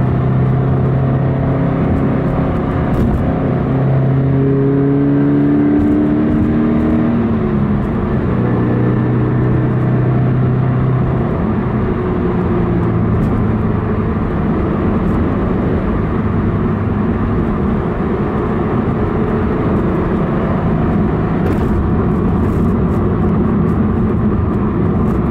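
Subaru BRZ / Toyota 86 / Scion FRS sports car with an oil cooler installed, cruising at steady speed, producing a continuous engine drone and road rumble heard from inside the cabin, with no talking.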